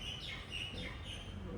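Birds chirp outdoors in short, high tweeting calls repeated several times, quiet and somewhat distant over a low background rumble.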